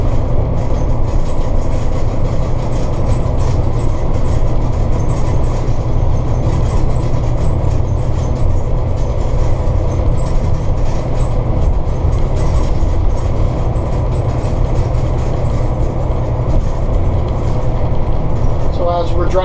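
A Sportscoach diesel motorhome cruises at about 60 km/h, heard from inside the cab as a steady, loud road and engine rumble that holds evenly throughout.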